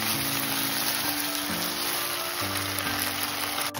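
Chicken sizzling hard in a hot pan for Schezwan chicken, a steady loud frying hiss with faint scraping as it is stirred and no voices.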